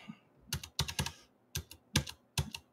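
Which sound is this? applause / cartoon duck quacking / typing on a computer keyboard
typing on a computer keyboard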